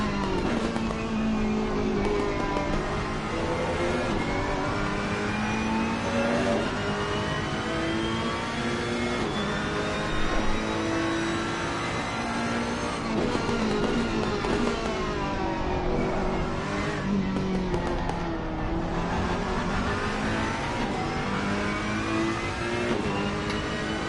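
Onboard Ferrari race car engine in a PS5 sim racing game at Zandvoort, revving steadily with rising and falling pitch through gear changes, loud and continuous for the whole stretch with no talk over it.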